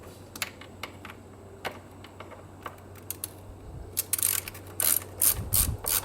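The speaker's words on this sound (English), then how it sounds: "to take the torque screws out, you're going to need a T20" A T20 Torx bit breaks loose small screws on a throttle position sensor of a Ford Ranger, heard as scattered sharp ratcheting clicks that build into denser bursts of rapid clicking toward the end, close and fairly quiet.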